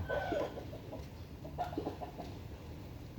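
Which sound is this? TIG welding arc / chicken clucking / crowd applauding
chicken clucking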